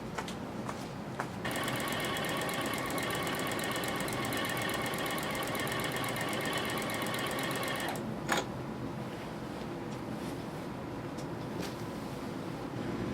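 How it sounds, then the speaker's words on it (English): A sewing machine stitches a fabric border onto a quilt, a steady close whirring drone starting after a brief pause, running evenly for several seconds, then stopping with a clunk before quieter handling noise. "And we'll sew this border on."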